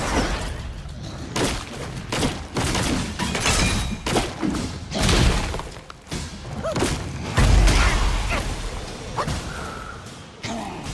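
Heavy booming blasts and thuds from a big explosion in the video game Black Myth: Wukong, with whooshing and crashing bursts repeating throughout, loud and dense, no talking.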